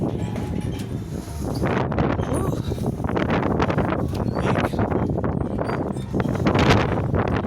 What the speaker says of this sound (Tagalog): Palakas ng hangin.